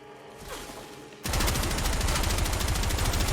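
Gotva Prime rifle gunfire in a video game, a sudden dense burst of rapid automatic shots that starts after a brief quiet lead-in and keeps up loud and continuous.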